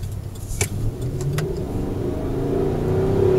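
A 5.7 litre Chevrolet V8 runs with a low rumbling idle that builds toward a rev near the end, heard close with a few sharp clicks early on.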